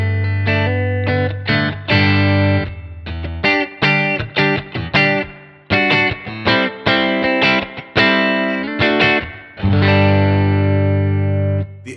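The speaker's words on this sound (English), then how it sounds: "So we went with the Hot Springs," Electric guitar through Line 6 Helix Hot Springs spring reverb with a vintage 1965 Fender Deluxe Reverb tone: choppy driven chords and single notes with short springy tails between strums, loud and alone.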